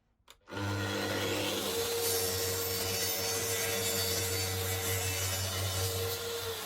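Plywood pieces being cut at a 10 degree bevel with a power saw, which starts abruptly after a brief quiet moment and then runs as a steady, loud, continuous cutting whine and rasp for several seconds.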